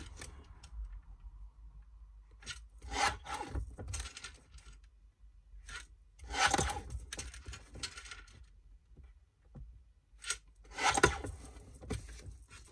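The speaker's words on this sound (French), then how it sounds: "je prends ma petite découpeuse et je découpe" Small paper trimmer slicing paper squares for a craft card, a few sharp close clicks and quick swishing cuts spaced several seconds apart in a quiet room.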